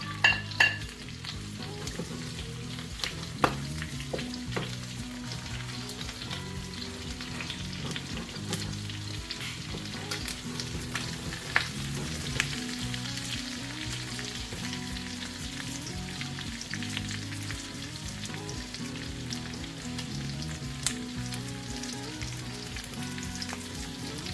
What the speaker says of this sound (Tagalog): At tayo ay magkigisa na po ng bawang at sibuyas.